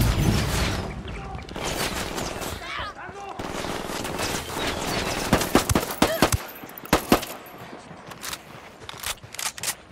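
Bursts of automatic and single gunfire from a firefight in Ghost Recon Wildlands, sharp cracks and rattling volleys that grow denser and louder toward the end, mixed with game ambience.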